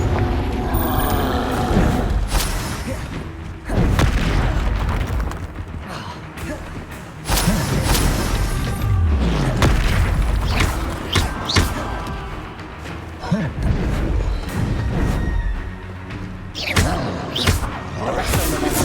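Confringo and Glacius spells are cast during Hogwarts Legacy combat. A loud, dense run of magical bursts, thuds and booming impacts follows in quick succession, barely pausing for the whole stretch.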